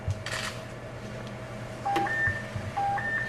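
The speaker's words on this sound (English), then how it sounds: "So you'll see the machine here will alarm." A trace substance detection machine at a border security checkpoint gives off a few steady electronic alarm tones, with short beeps over a constant hum, moderately loud and close.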